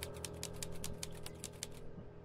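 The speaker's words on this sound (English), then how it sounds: "the old typing" Rapid rhythmic keyboard clicks from the Tangle Tower video game, a steady run of a dozen or so quiet typing taps that stops just before the end.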